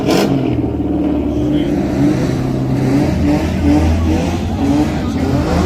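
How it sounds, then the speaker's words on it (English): A Chevrolet Caprice with an LS engine launches hard as the clutch is dumped, giving a loud, close, sustained engine roar that holds steady throughout. "I have to dump the clutch a little bit harder. That's a LS."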